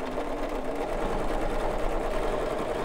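A domestic sewing machine quilts steadily, stitching black thread through a basted quilt with a continuous, close and fairly loud motor whir and rapid needle rhythm, with no talking.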